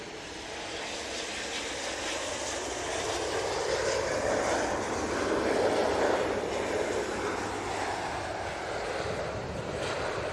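An airplane engine at Manchester Airport gives a broad, steady roar that swells to a peak midway and then eases slightly, heard from a distance with no talking.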